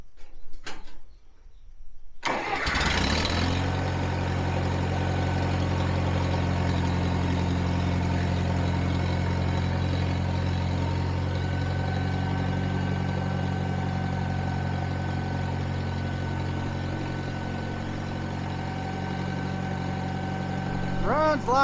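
International 424 tractor engine catching on a cold start after a brief crank, then idling steadily with a deep, even low rumble, close and loud for the rest of the stretch.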